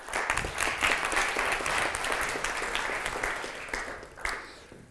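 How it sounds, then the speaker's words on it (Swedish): Audience applause fills a stage event at a Swedish city-development presentation, steady dense clapping throughout, slightly fading toward the end with a few louder claps near the close. "Ge henne en applåd."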